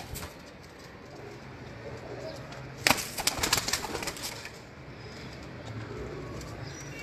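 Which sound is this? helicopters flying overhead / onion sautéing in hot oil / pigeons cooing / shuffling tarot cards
pigeons cooing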